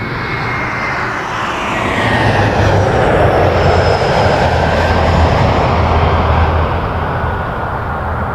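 A heavy jet departs a runway at Toronto Pearson Airport, its broad engine roar swelling loud and close, then holding steady with a deep rumble and a faint whine drifting across.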